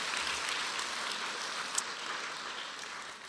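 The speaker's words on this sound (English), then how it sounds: "please give yourself and all of the other folks in attendance a big round of applause" A seminar audience breaks into steady applause, a dense, even wash of many hands clapping at a moderate distance, sustained without pause and tapering slightly at the end.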